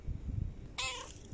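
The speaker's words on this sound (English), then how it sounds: "This is my friend cat." One short, clear cat meow sounds close, set against quiet outdoor rumble and low background noise.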